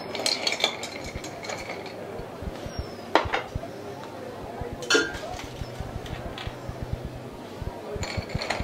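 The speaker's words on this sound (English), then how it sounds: "Give your drink a stir and garnish with some apple slices and two straws." A drink topped up with cloudy apple juice is stirred in a glass, producing scattered clinks and scraping taps at an uneven pace. A few sharper knocks of glass or metal stand out against a steady low background hum.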